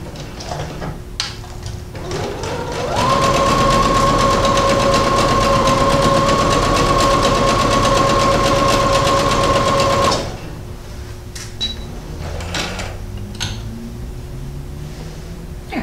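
A sewing machine stitches two pant legs together, right sides facing: after a few handling clicks its motor whirs up into a loud, even, close run for about seven seconds, then stops, followed by light rustling and taps.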